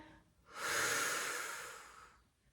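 A single long, close breath out pushed through the mouth during a mat Pilates exercise, swelling quickly and then tapering off over about a second and a half, with no talking.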